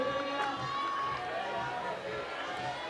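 A crowd at the Chamonix lead climbing semi-finals cheers and shouts steadily in support of a climber, a sustained roar heard under a commentator's voice.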